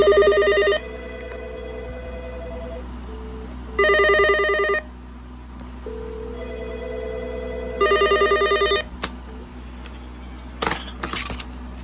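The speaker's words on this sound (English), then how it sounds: "So you can actually hear the other phone ringing in the background." Another Mitel IP phone on a shared line rings in the background of a room, its electronic ring repeating in three bursts separated by pauses, with faint clicks near the end.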